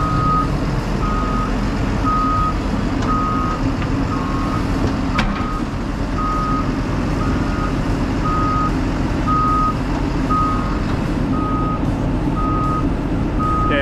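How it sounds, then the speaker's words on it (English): A huge forklift sounds steady reversing beeps, evenly spaced and loud, over a constant low engine rumble while being pulled out of a hole backward by a cable. "Go ahead and put it in reverse and no throttle."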